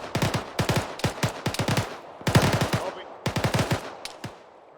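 Rapid automatic gunfire in the military shooter ArmA 3, loud close bursts of rattling shots in quick strings, briefly pausing before more volleys and a final isolated shot.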